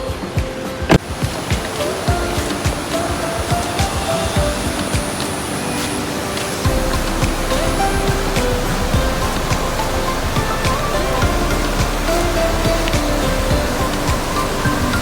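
Water rushes steadily over rocks in a loud, continuous roar that stays constant throughout, with no voices.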